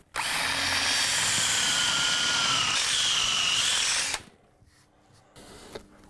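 A power drill bores holes in a piece of wood for mounting a shelf with no visible fasteners, a loud, steady whine for about four seconds, then stops, leaving faint clicks and handling noise.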